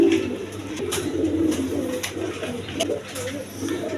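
Red Rasgolla pigeons coo steadily nearby, their low, rolling calls overlapping in a continuous murmur with a few soft taps and wing sounds.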